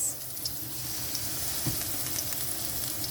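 Onion and garlic mixture sizzling in olive oil in a pan, a steady close hiss with no talk and a faint scrape near the middle.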